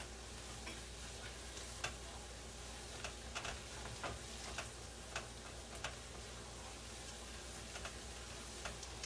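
Pork chop gravy thickened with flour cooks in a pan, giving a faint, low simmering sizzle with scattered soft ticks and occasional utensil taps, quiet and continuous.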